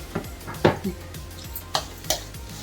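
Coconut rice mixture frying and being stirred in a pan, with a few distinct scraping clinks of a spoon against the pan over a low sizzle, close and fairly quiet.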